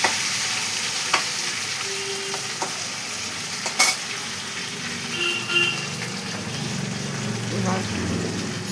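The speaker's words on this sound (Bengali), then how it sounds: "আলুটা ভাজা হচ্ছে।" Potatoes frying in oil in a pan with bay leaves, a steady close sizzle with occasional stirring scrapes and clinks over the whole stretch.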